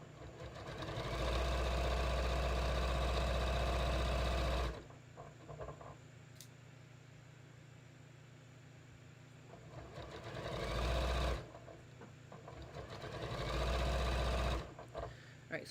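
A sewing machine top stitches a straight line on a tee shirt in two loud, even runs separated by a quieter pause with small handling sounds, then starts up again near the end.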